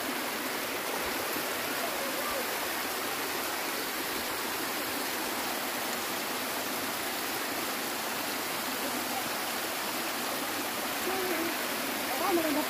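Steady rushing of flowing stream water at Sheung Lin stream, broadband and continuous, close by with no pauses throughout.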